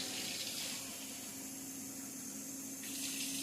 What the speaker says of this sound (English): turning off your water, you have your 2 cups of hot water in there